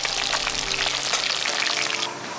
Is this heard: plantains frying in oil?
yes